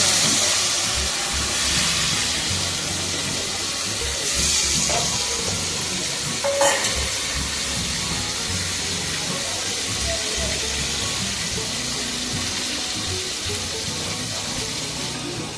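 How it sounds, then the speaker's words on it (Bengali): Fish frying in hot oil, cooked until deep red and crisp, giving a steady broadband sizzle that stays loud and continuous throughout, with faint stirring or clattering now and then and no talk. "এবার মাছটাকে খুব ভালো করে ভেজে নিতে হবে, লাল লাল করে একদম কড়া করে ভাজতে হবে।"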